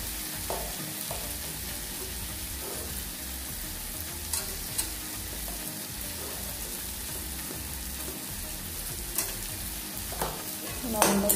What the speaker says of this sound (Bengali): তো এই যে আমার পেঁয়াজ টমেটো লঙ্কা সব ভাজা হয়ে গেল